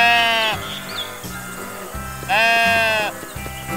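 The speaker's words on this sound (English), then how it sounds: "Lamb." A lamb bleats loudly and close, two long wavering cries separated by a pause, with low thumping toy or music sounds underneath.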